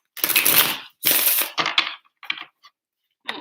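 Tarot cards being shuffled in quick bursts: crisp riffling flutters, two long runs followed by shorter choppy ones, close and clear against silence.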